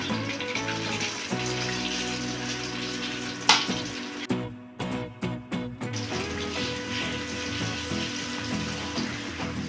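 Chicken pieces fry in hot oil for homemade KFC-style fried chicken, a steady sizzle holding throughout with a brief cluster of louder crackles and pops near the middle, under soft background music.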